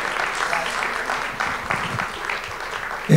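Audience applause fills a hall at an inspirational talk, a steady dense wash of clapping held at even loudness for a few seconds, with a louder thump at the very end.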